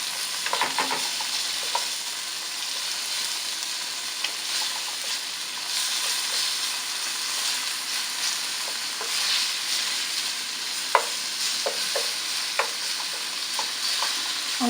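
Bacon frying in a cooking pot for a shrimp and glass noodle dish, a constant hissing sizzle with scattered pops and occasional stirring clicks, even and close with no voices.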